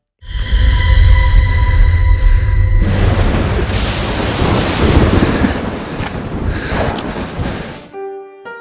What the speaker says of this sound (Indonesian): tak lama setelahnya petir kembali menyambar tepat di samping Herlan